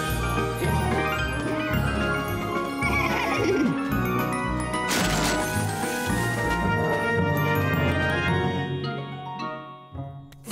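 Cartoon sky horses neigh and whinny over bright music and tinkling effects, a loud, busy stretch with a crash-like burst midway before it quiets at the end.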